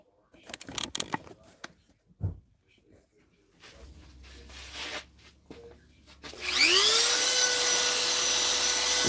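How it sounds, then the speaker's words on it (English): Dremel rotary tool handled with a few soft knocks, then switched on and spinning up to a loud, steady high-pitched whine that runs continuously near the end. "I'm going to take my Dremel tool here, and might as well get started here."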